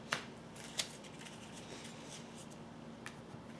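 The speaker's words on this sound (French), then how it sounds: "Je vais tirer la carte parce qu'elle n'a pas l'air de vouloir tomber." A card is pulled from a tarot deck, giving two sharp, brief papery snaps near the start, then soft faint rustling in a quiet room.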